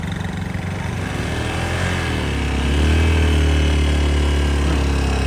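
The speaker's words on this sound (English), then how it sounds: "I thought the engine was blown up or something." A motorcycle engine runs loud and close, holding a steady throb before the revs rise and stay higher partway through, with no one talking.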